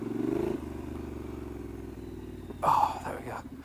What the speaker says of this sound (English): So cool that you've got a bike that sounds like this off-road though.